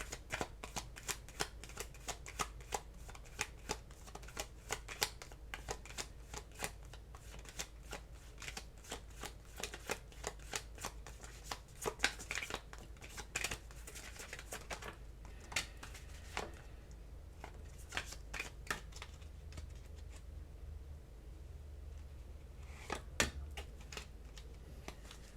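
Tarot cards being shuffled by hand, a long run of crisp riffling and flicking bursts with brief pauses, close and fairly quiet, with no talking.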